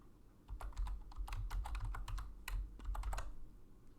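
Rapid, light keystrokes clatter on a computer keyboard in irregular bursts with short pauses, close and fairly quiet, with no talking.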